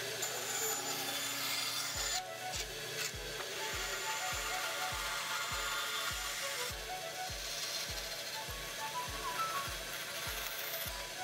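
A wooden dowel is shaped by hand with sharp tools, giving steady rhythmic rasping and scraping strokes at regular, even intervals over a constant background hum.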